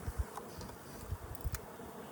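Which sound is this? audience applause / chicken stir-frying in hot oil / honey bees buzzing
honey bees buzzing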